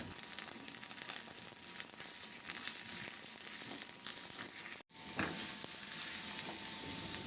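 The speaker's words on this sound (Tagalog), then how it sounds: "At igisa ko na rin yung luya." Ginger sautéing in hot oil in a wok gives a steady, continuous sizzle with faint stirring scrapes, broken by one brief dropout near the middle before the frying resumes.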